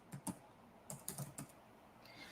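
Keys clack on a computer keyboard in a few short bursts of quick taps, close and fairly quiet, with brief pauses between them and no voices.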